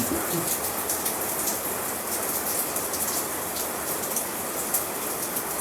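Heavy, noisy rain falls in a constant close hiss and patter, loud and unbroken, with a faint voice briefly beneath it.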